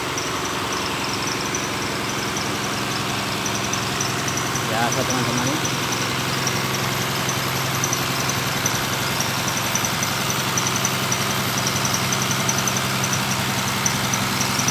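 Water pump engine running at a coal mine, a loud continuous mechanical drone heard close by with a brief spoken remark partway through.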